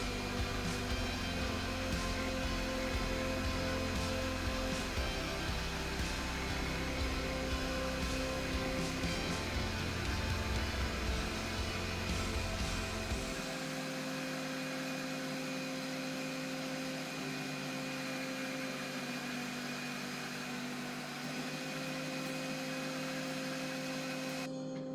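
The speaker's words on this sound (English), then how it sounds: "all those ingredients go into a blender and you puree, pretty much liquefy everything" A blender purees garlic scape pesto ingredients, including Parmesan, with a loud, steady motor whir for about thirteen seconds, then drops to a lower, quieter hum.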